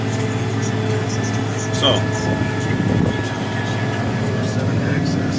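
Tractor engine pulled down a few hundred RPMs while planting, a steady loud low drone with a brief dip in pitch midway, heard from inside the cab with a single spoken word near the start.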